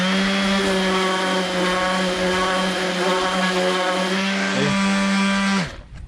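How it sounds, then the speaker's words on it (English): A power sander lightly sanding the edge of a wooden floating shelf, a steady whining hum that holds for about five and a half seconds and then winds down and stops. "I'm just gonna go with a light sand over it and it'll clean that right up"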